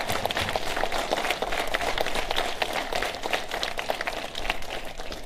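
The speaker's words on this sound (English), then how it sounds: "Let's give him a strong round of applause." An audience at a Bronx Irish American history event claps in a sustained, dense round of applause, many hands close and loud, steady for the whole span without talk.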